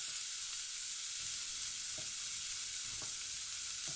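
Beaten egg poured over frying okra in a pan, a steady soft sizzle with faint occasional clicks of stirring, heard alone with no talking.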